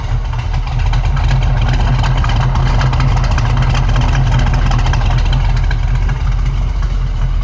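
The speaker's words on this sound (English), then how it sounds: "350 4-barrel. Gotta love that rumble." A steady, deep rumbling of a 1974 Chevrolet Camaro Z/28's 350 four-barrel V8 with true dual exhaust idling nearby, loud and continuous with a throbbing low-end pulse throughout.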